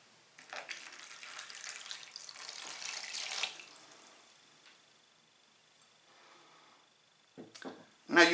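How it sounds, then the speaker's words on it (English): A quarter litre of water pours steadily onto sphagnum moss in a container for a few seconds, a close splashing stream that fades off, followed by a couple of brief knocks. "and now add your 1/4 of a litre of water."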